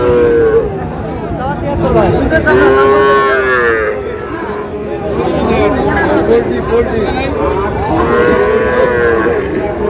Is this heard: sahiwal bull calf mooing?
yes